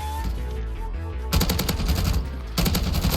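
Rapid bursts of DMR rifle gunfire in Call of Duty Warzone, loud repeated shots in two clusters after a quieter opening, with no talking over them.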